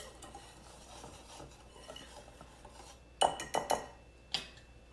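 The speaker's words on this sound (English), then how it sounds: "I'm going to whisk in that salt to evenly incorporate it and break up any lumps that I have in the flour." A wire whisk works salt into bread flour in a bowl: a quiet stretch of soft rustling, then a quick cluster of bright clinks against the bowl and one last tap, all close up.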